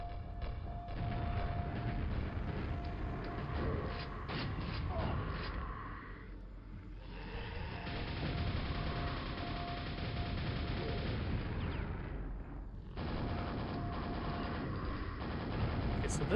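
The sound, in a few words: grenade launcher explosions in video game Quake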